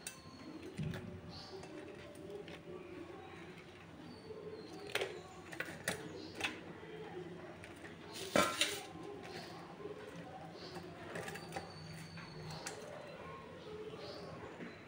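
Freshly fried onion vadas are set down on a plate, giving a few light, scattered clinks and taps against a quiet, steady background murmur.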